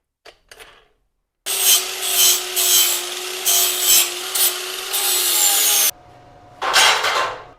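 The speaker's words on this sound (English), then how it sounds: "Before I strike an arc, I always bevel the sharp edges on the metal." Abrasive grinding on steel edges to bevel them before welding, during a heavy-duty metal rack build: a loud continuous whine with a steady tone and rhythmic surges, broken by a short pause, then resuming, after a few faint taps at the start.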